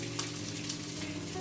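Fennel (finocchio) sizzles steadily in a frying pan as breadcrumbs are added on top, a continuous close, even crackle with no talking.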